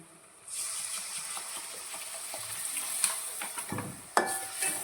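Beef pickle being stirred and mixed in a hot pan, a steady close scraping and sizzle with occasional clinks of the spoon against the metal, a sharper knock near the end.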